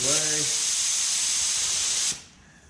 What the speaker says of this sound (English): So let's do a spray out right now.